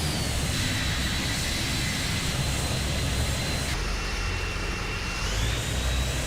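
Steady, continuous drone of ATR 72-500 turboprop engines climbing in the Prepar3D v5 flight simulator, with a broad roar and a faint whine that shifts pitch midway as throttle changes, no talk.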